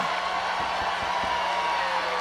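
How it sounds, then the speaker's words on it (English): A raucous wrestling crowd in Lewiston cheering, a steady wash of massed voices with a few thumps underneath, continuous across the short stretch. "Listen to this crowd showing their appreciation for Gabby Forza."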